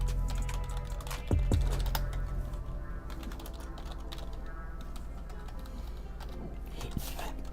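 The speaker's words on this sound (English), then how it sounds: "I was so used to typing Adam Wainwright the way it is." Fast, steady clicking of keys on a computer keyboard runs throughout, close and even in rhythm, over a low background hum.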